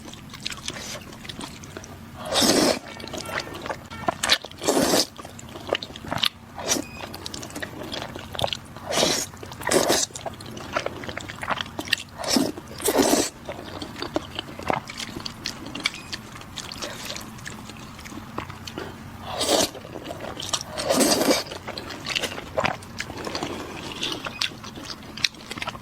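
Crispy food being bitten and crunched in a close-up eating session, with a series of sharp, loud crunches spaced irregularly and quiet chewing between them, with no talking.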